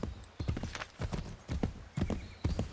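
Hooves of a horse in Assassin's Creed III strike in a steady, repeating trot rhythm, near and distinct, several clip-clop pairs in a row with no voice over them.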